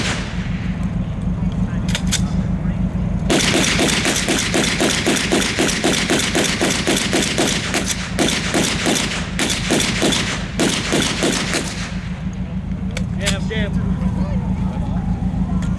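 A WWII machine gun fired at an outdoor encampment demonstration, a loud rapid burst of close shots lasting several seconds with brief gaps, amid a steady outdoor rumble and a few scattered shots before and after.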